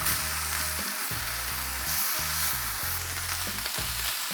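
Bacon double cheese smash burger patties sizzling on a grill after flipping, a constant close, loud hiss throughout with low tonal hum underneath, no talk.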